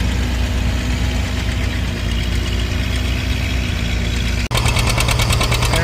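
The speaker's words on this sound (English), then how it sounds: "There is a 2510 Deere." A John Deere 2510 tractor engine runs steadily and loud, with a constant low mechanical drone and knocking rumble; a brief dropout near the end precedes a harsher, buzzier stretch of the same engine noise.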